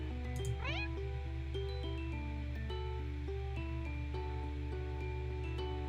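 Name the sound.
cat meowing in video game Purrfect Date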